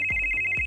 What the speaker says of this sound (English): Your cell phone starts ringing.